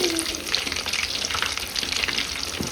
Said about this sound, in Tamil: நல்ல முருவலாக பொரிச்சிட்டு இருக்கிற